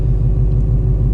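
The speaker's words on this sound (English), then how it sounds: "My car is currently running." A car engine idles with a steady, loud low rumble heard close up and alone, the note holding even throughout.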